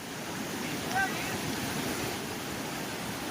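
Monsoon floodwater of the Ojat river surging through a farm in the Ghed area of Junagadh: a broad, steady rush of water with wind across the microphone, continuous and fairly near, with a brief faint tone near the start.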